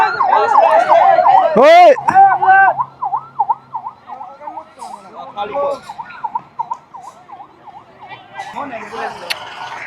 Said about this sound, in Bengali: অ্যাম্বুলেন্সটা চলে গেল, থামাইলো না।